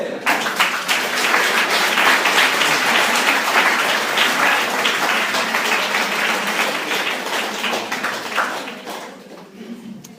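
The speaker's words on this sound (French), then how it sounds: "Et on peut applaudir notre volontaire." An audience in a church service claps for a volunteer, dense, sustained applause filling the room for several seconds before tapering off, with a few voices underneath.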